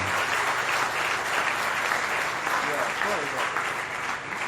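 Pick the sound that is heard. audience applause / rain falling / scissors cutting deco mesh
audience applause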